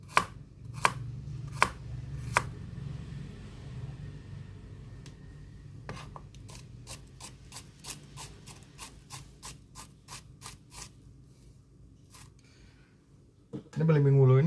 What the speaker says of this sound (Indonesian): Kemudian potong-potong juga cilincing atau